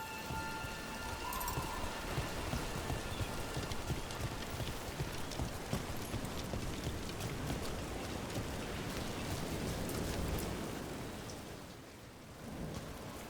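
Rain falls in a thunderstorm setting in the video game Dragon Age: The Veilguard, a steady hiss of heavy rain with scattered drops and low rumbling, easing slightly near the end, with no voices.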